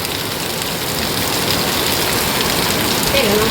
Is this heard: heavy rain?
yes